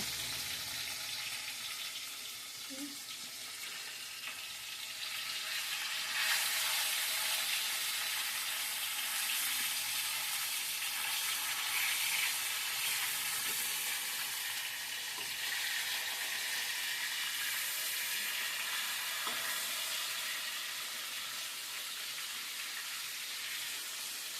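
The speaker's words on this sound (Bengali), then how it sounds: "মাছটা ভালো লাল করে ভেজে নেব" Kalbaus fish sizzles steadily in hot oil in a pan, a continuous broadband frying hiss that swells slightly partway through and holds without speech.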